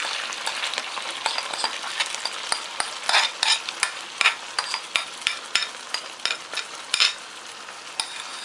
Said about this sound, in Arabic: ونقلبه بقى مع الفراخ لمده برده من 4 ل5 دقايق تانيين